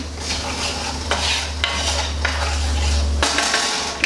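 A browning roux for Creole gumbo stirred in a pot over a low flame: repeated scraping strokes of a utensil against the pot with faint sizzling, close and fairly loud, under a steady low hum.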